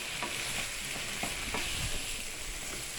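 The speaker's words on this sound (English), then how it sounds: "Stirring with the left hand." Food being stirred in a frying pan with a utensil, irregular scraping taps over a steady sizzle, close and moderately loud, with no talking.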